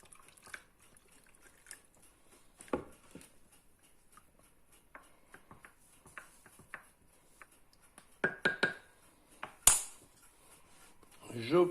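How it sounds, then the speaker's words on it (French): Water being mixed with sourdough starter for bread makes soft, sporadic sloshes and small wet taps, with a brief cluster of louder splashes toward the end, in a quiet room. "Et on va maintenant mélanger l'eau"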